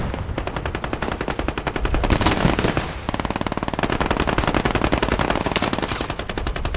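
An MG3 machine gun fires in the Squad video game, hammering out two long, loud, rapid bursts with a brief break near the middle.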